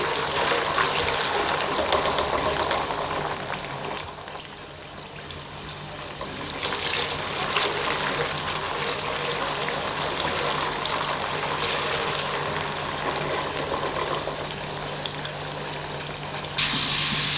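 Pieces of taro root (arbi) fry in hot oil for a meat curry, giving a steady, loud sizzle and bubbling hiss that runs unbroken throughout with no talking.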